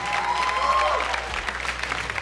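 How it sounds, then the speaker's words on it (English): Applause from a studio audience at a televised interview event, moderately loud and steady for about two seconds with a faint tonal whine near the start. "can we have a big round of applause?"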